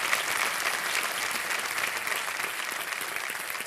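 Sustained studio audience applause on the KBC quiz show set, a steady, dense wash of clapping at even strength throughout with no voices.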